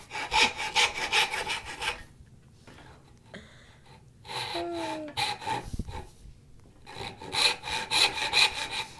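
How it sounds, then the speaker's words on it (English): A handmade turning saw cuts wood by hand in quick rhythmic back-and-forth rasping strokes, close up, pausing briefly midway with some faint handling noise before the sawing resumes. "I was actually putting too much force into the saw, driving the teeth down in"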